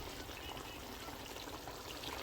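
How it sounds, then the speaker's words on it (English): Hot boiling water pours steadily onto meat in a pot while cooking haleem, a continuous splashing, trickling stream running without pause at moderate, even loudness. "I'm going to add hot boiling water to this."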